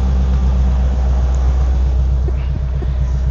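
A Mitsubishi 4G63 DOHC four-cylinder engine idles close by with a steady, deep rumble and an even low pulse, some faint ticks on top and no talk.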